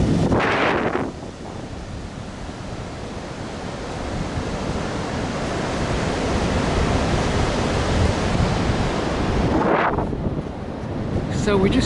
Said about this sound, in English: The noise is going to be off the wind.